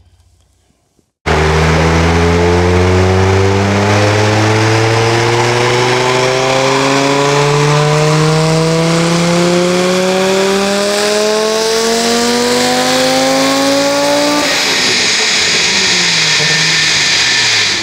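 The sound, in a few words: tuned Audi S2 turbo engine revving under boost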